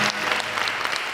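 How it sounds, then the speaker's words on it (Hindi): Applause from a studio audience on a talk show, a short dense burst of clapping from many people that stays steady and fairly loud throughout. "तालियां भाई, तालियां इस बार."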